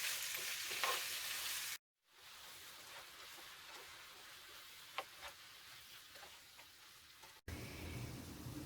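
A red beans and rice mixture simmering in a skillet gives a soft, steady sizzle with occasional faint ticks and pops, close and quiet, broken by two brief cuts.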